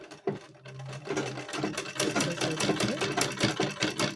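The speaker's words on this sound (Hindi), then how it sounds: "यहाँ से सिलाई लगानी है और फिर ये दोनों भाग को जोड़ के" An electric sewing machine stitches fabric for a baby's rumali frock in a fast, steady whirring rattle, running close and loud with short pauses and no talk.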